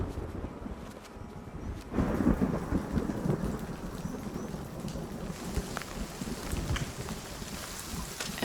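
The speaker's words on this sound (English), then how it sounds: "At this time of year, it rains a lot. And the noise on the tin roof of orphan care can be frightening for the babies." Heavy rain pounds steadily on a tin roof at an animal orphan care building in Malawi, with low thunder rumbling and swelling beneath the dense drumming, no voices.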